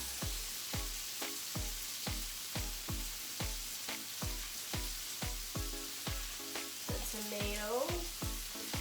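Onions and red peppers sizzle steadily in a hot pan, a dense continuous frying hiss punctuated by a regular series of close scraping stir strokes throughout.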